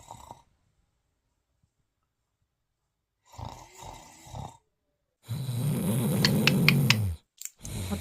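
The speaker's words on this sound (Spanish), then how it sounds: "Y él ahí roncando." A man snores while asleep: a couple of soft snorts early, then a loud, rasping, buzzing snore near the end, with long silent gaps between.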